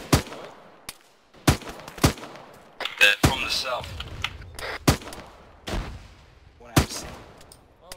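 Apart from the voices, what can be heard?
gunfire in a military video game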